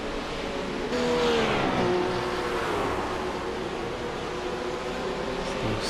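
GT race cars at Daytona, the steady drone of racing engines holding at full throttle, a continuous broadband roar with a brief surge early on and no talk over it.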